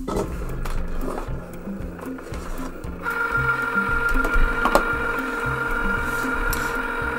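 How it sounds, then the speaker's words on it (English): A Cricut cutting machine whirs and clunks in a steady mechanical rhythm, with a higher motor whine joining partway through, loud and close. "So let's turn on the Cricut."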